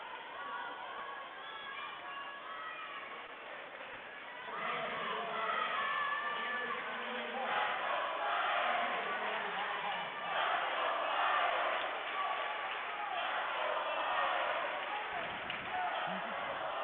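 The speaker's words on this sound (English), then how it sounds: "Crowd on their feet here at the Frerick Center." A women's volleyball crowd at a college gym, with fans on their feet, swells into loud, sustained cheering and shouting after a few seconds of quieter murmur. It carries on for most of the stretch and fades slightly near the end.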